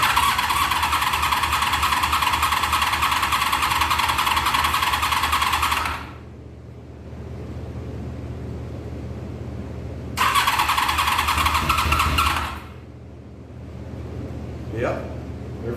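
The starter whirs loud and steady on a dry-carbureted 1993 Honda VFR750F motorcycle that has sat for over a year, cranking in two long bursts with a quiet pause between them, and no firing heard.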